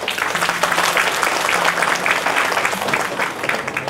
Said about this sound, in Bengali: মায়েদের জন্য একটা জোড়া হাততালি হয়ে যান।